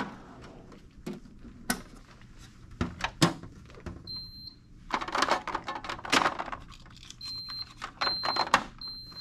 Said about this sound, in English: morphine is a controlled substance, and so I'll have to unlock the drawer.